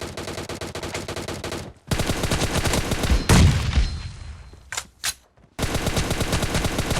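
Rapid automatic gunfire in PUBG: loud, dense bursts of shots close by, broken by short pauses around two and five seconds, with a heavy impact in the middle and no talk.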